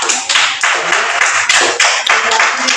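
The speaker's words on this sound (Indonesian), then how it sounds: "Kita beri aplaus yang meriah untuk proses kita hari ini." Loud, close clapping from a small group at the end of a classroom teaching-practice session comes in several uneven bursts of claps, dense and bright, with no talk over it.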